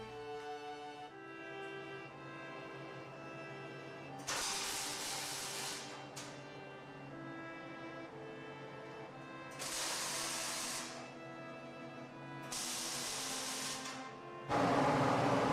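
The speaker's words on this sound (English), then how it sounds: "I'll weld them together" Steel plates are welded together in several separate bursts of loud, crackling hiss, each lasting a few seconds and separated by quieter stretches with a steady background hum, the final burst louder and harsher.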